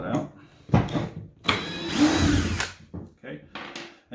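A cordless drill backing a screw out of wood whirs in short close bursts that rise and fall in pitch, with someone talking around and between them.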